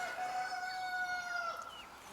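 A hen in a free-range backyard flock gives a drawn-out, tonal call, fairly close but moderate in level, lasting about two seconds with no talking over it.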